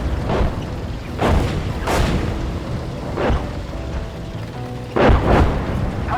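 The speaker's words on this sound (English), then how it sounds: "We'll wait till the artillery hitting north side finishes" Artillery shells burst one after another in the Gunner HEAT PC tank game, five or six heavy booms arriving at irregular intervals over a low rumbling background, loud and fairly close, with no talk.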